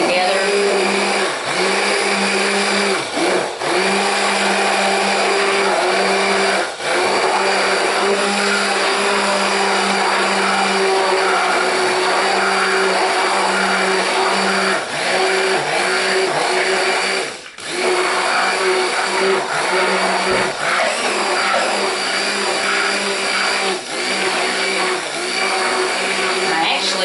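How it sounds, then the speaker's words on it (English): Stick blender whirring continuously in a lye soap mixture of lard and goat's milk for cold process soap, a loud steady motorized drone with brief dips where the motor eases off, no talking. "I'm going to take my stick blender. I'm just going to blend it a little bit just to mix it in together."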